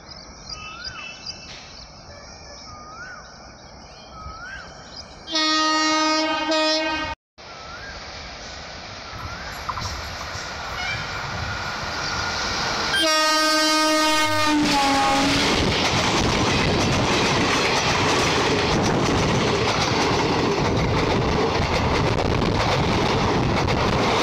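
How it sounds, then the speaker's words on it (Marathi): The Maharashtra Express, hauled by a Pune-shed WCM-3 electric locomotive, approaches with two loud horn blasts, then sweeps past in a rising rush of wheel and wind noise, the roar of the passing carriages staying loud and steady at close range. "गाडी समोरून येत आहे आणि महाराष्ट्र एक्सप्रेसला लीड करतोय WCM-3 लोकोमोटिव्ह जो पुणे लोको शेडचा आहे"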